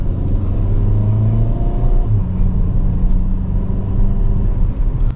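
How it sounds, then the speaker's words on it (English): A 2022 Hyundai Kona N engine under regular acceleration, with a steady low drone and gently rising tone, heard from inside the car and fairly loud, without pops or bangs. "Take a listen as we just do some regular acceleration."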